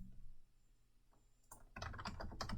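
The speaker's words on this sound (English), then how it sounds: "We type in student first name" Quick tapping on a computer keyboard while filling in a name on an online form, faint keystrokes building into a brisk run near the end.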